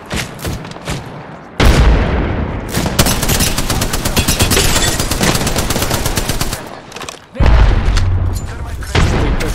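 Rapid automatic gunfire and heavy shots from a battle-royale video game final-circle fight, loud and nearly continuous with brief pauses, bursts rattling in quick succession with booming impacts.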